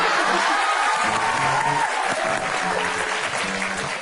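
A studio audience claps in unison for a few seconds, loud and continuous, with a faint voice murmuring beneath the clapping.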